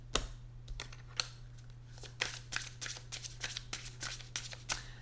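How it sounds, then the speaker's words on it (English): Tarot cards are shuffled by hand in a quiet room, a rapid run of crisp riffling flicks and taps in uneven bursts over a faint steady hum. "I'm going to keep shuffling until you guys give me one."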